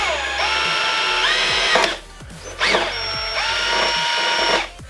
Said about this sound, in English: I've also used a 1/8 drill bit, which I'm going to use to drill a pilot hole.